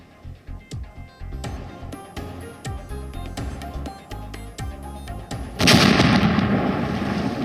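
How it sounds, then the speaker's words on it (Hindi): Heavy bomb blasts and gunfire in the Ukraine war, a run of sharp booming hits at an irregular beat, closing in a loud, sustained roaring burst. "हर रोज यूक्रेन के अलग अलग इलाकों में बम और गोलीबारी तेज हो रही है, उसकी आवाज भी तेज हो रही है।"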